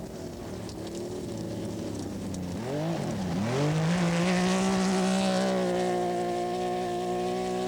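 Rothmans Porsche rally car engine at the 1984 Dubai International Rally, a loud continuous roar that dips in pitch around the midpoint then climbs and holds steady, revving hard as it passes.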